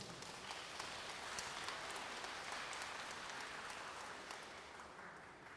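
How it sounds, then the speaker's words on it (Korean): An audience at a residents' information meeting on redevelopment gives a sustained round of applause, a dense even patter of many hands clapping that stays steady throughout and eases slightly at the end. "이 점 감사의 박수 한 번 더 부탁드리겠습니다."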